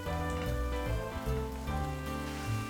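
Chestnut mushrooms sizzle in a frying pan, a soft, steady crackle and hiss heard up close with some faint background tones.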